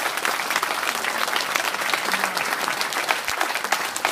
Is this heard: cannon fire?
no